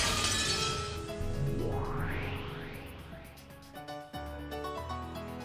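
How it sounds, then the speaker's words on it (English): A thin glass-shattering effect in the visual novel Umineko opens with a bright crash. A rising, ringing sweep follows over layered musical tones, then a sudden cut and a softer tail. "the whole world shattered as though it were made out of thin glass"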